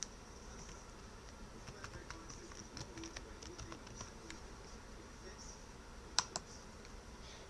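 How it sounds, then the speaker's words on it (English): Faint, scattered key clicks from a computer keyboard as a password is typed, with a sharper pair of taps near the end over a quiet room hum. "Type in your password"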